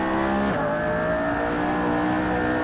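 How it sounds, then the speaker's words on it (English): Nissan GT-R V6 engine racing in Assetto Corsa, a sustained loud droning engine note holding high revs with a brief pitch dip after a gear change, close and continuous. "A GTR, I mean, I know it's not everyone's favorite sound"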